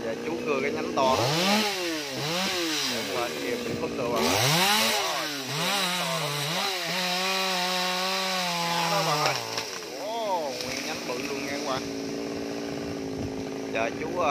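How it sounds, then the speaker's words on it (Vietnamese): A chainsaw cuts a large mango tree branch, revving up and down in repeated surging bursts that rise and fall in pitch, fairly loud and close, with a voice briefly present alongside. "Giờ chú cưa cái nhánh to đó."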